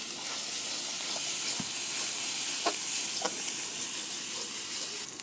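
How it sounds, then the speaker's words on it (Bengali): Onion, oil, chili and garam masala sizzle steadily in a hot wok, a constant close frying hiss with a few faint clinks of stirring, and no voices. "প্রথমে কড়াইয়ে পেঁয়াজ, তেল, মরিচ সব কিছু দিয়ে গরম মশলা সব কিছু দিয়ে কষায়"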